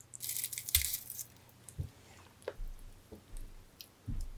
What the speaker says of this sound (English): Ooh, can you hear that crunch?